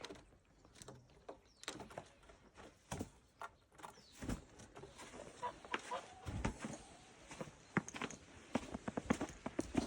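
Hens cluck and a rooster calls amid scattered clicks and knocks, a busy village farmyard scene in winter in Tüfekçikonak at moderate distance with no one speaking.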